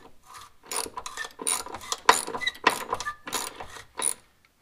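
A wrench turns a spinning nut on a leaf spring slider during a suspension install, giving a run of close, rapid metallic ratcheting clicks in short bursts that stop at the end.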